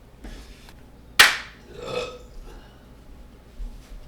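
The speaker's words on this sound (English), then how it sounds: "The burp is not as consistent as the clap." One loud, sharp hand clap, then a gurgling burp about a second later, both close and used to sync recording; a short breath or murmur follows quietly.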